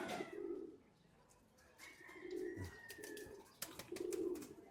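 Soft, low coos from flyer and breeder pigeons come in a few separate bursts, with faint chirps and light background noise in between.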